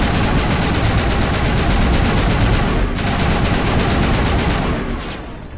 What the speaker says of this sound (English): Ashley, you just unload as many bullets as you can into this